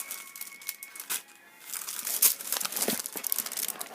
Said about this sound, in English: and then I also put in my stickers,